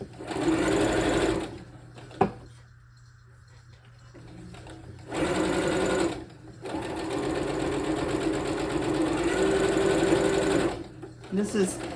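A sewing machine stitches stretchy fabric for Christmas stockings in several steady bursts separated by short pauses, running close by with a voice talking over parts of it.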